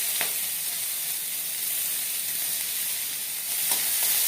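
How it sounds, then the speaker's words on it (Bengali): Chopped onions fry in hot oil with whole garam masala, a steady, close sizzle and crackle running throughout with a couple of brief stirring scrapes. "পেঁয়াজ কুচিগুলো দেওয়া হয়ে গেলে আমি পেঁয়াজ কুচিগুলোকে ভাজি নেব।"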